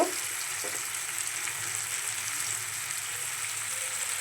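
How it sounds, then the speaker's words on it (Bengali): Ginger and spices frying in a pan give a steady, moderate sizzle and crackle with no talking, a small clatter at the start. "একটু আদাটা কষা হয়ে গেলে তারপর আস্তে আস্তে অল্প অল্প করে সবগুলোই দেবো মশলাটা"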